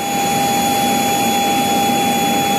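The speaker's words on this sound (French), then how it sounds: "là, nous venons d'atterrir" A plane's jet engines run loud and steady with a constant whine just after landing at Goma airport in North Kivu, a continuous close roar without pauses and no talking.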